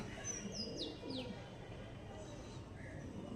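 Andra pigeons coo softly near at hand, mixed with a few short chirps and tweets over a steady low background murmur.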